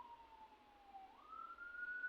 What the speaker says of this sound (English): So, we have an ambulance coming down the road,